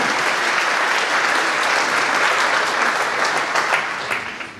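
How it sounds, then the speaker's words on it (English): A crowd at a community awards ceremony gives students a round of applause, many hands clapping in a loud, continuous, even roar that tapers off in the final half second. "let's give a round of applause to these students"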